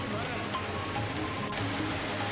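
Heavy rain pours down in Mumbai, a dense, steady hiss of drops hitting surfaces that stays even and close throughout.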